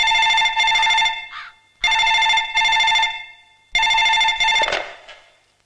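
A telephone bell rings loudly and close in an office scene from a comedy film, sounding in three separate bursts with short silent gaps between them.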